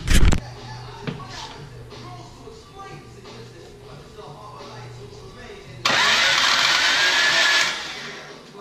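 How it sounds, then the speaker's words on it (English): An engine with no compression is cranked, giving a quick, even, whirring burst for nearly two seconds after a quieter stretch with a sharp knock at the start, and voices talk in the background. "That right there is the sound of no compression."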